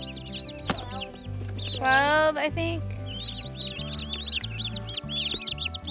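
Young turkeys peep in repeated high, rising chirps, several birds calling close by in quick bursts, with a person talking briefly partway through and a low hum underneath.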